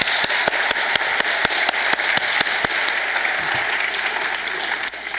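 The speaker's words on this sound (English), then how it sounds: "Please join me in giving a round of applause for members of Pros for Bros, Double Booked Divas," A festival audience applauds volunteers with steady, moderately distant clapping. A few sharp, individual claps stand out above the blended sound.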